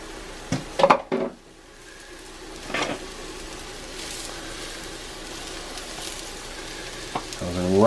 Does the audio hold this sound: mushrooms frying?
yes